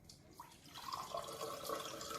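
Water runs and drips out of a dried coconut with a faint, steady trickle and gurgle that builds slightly and carries on without talk.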